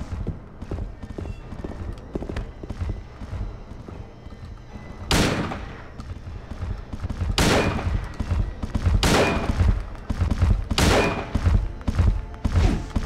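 Rifle fire in Silent Hill 2 against the Pyramid Head boss, several loud, sharp shots spaced a second or two apart over a busy, rumbling game soundscape with footstep-like clatter.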